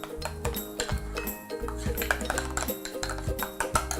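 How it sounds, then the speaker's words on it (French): Homemade sidewalk chalk paste being mixed in a bowl, giving a continuous run of clinking and scraping as the utensil knocks against the bowl, close and fairly loud with no talking. "là je suis en train de mélanger la pâte qui va servir à fabriquer les craies"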